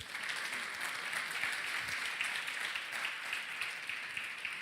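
Church congregation applauds during a sermon, a continuous, fairly distant wash of clapping from many hands, even and unbroken throughout.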